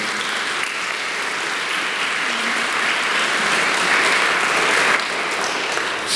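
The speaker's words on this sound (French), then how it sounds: "On va les applaudir quand même." An audience at a Catholic mass gives a long round of clapping for the accompaniers, even and sustained, swelling slightly toward the end.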